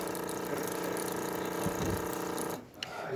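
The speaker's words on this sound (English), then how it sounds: "it's gonna give us water first. So we're gonna get all the water out of the machine" A Jura ENA 5 coffee machine pumps water out in a steady stream, its pump humming with a mechanical ratcheting buzz up close before cutting off near the end.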